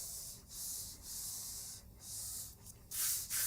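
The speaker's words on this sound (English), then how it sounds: "I'm gonna burnish it here with my hand." Paper burnished with the side of a hand during a Henri Matisse-style art project: close, repeated rubbing strokes come in soft bursts with brief pauses, ending in a louder sweep.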